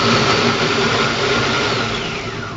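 A Monsieur Cuisine Connect food processor blending gazpacho on turbo, a loud, steady whirring motor roar that holds throughout and fades slightly toward the end, with no voices over it.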